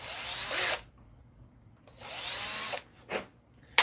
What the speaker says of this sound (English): I'm gonna deburr these 2 parts